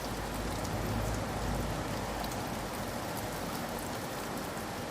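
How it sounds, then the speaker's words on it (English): Steady, heavy rain pelts a building's facade in a dense, continuous hiss with no pauses, loud and close throughout. "Autumn rain pelted the worn facade."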